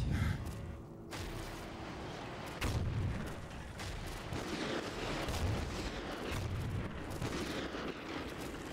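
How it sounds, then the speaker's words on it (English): A remote sniper rifle in a video game booms with heavy low thuds roughly every couple of seconds, layered over continuous dense battle noise and rumbling explosions. "Use the remote sniper to clear those up."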